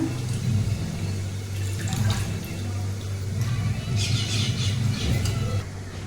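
Running water pours steadily from a tap as raw chicken is rinsed in a home kitchen, a continuous splashing wash with a low hum beneath and brief brighter splatters near the end.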